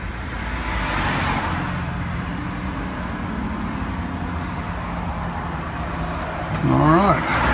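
Road traffic from behind a rider on an ELF pedal vehicle, a steady broad rumble of tires and engine that builds slightly toward the end, with a voice speaking over it near the close.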